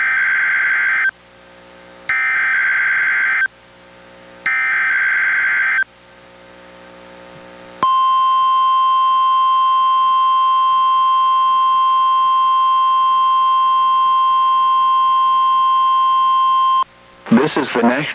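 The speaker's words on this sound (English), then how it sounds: "The preceding was a test of NWR radio's warning alarm." NOAA Weather Radio weekly test from the National Weather Service in Portland, Oregon: three loud, harsh digital data bursts separated by short gaps, then a long, steady, piercing warning alarm tone for about nine seconds, ending as a voice begins.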